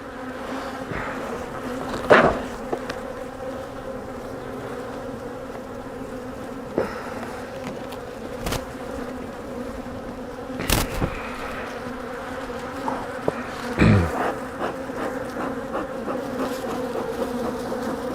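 Dense, steady hum of many honeybees buzzing close by around an open hive, with occasional sharp knocks and thuds of hive equipment.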